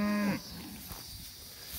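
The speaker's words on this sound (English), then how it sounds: "These cows, they are so full." Well-fed grazing cattle on pasture: one cow gives a clear, drawn-out low moo that cuts off abruptly, followed by quiet outdoor ambience with faint rustling.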